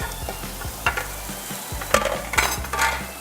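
A quinoa omelette mixture of eggs and grated cheese sizzles in a frying pan, with scraping stirs and a few sharper bursts of crackle.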